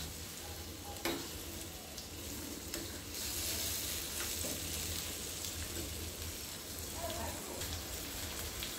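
A vrat dish for a Mahashivratri fast thali, cooking in a pan with steady sizzling and occasional stirring scrapes throughout, fairly close and unbroken.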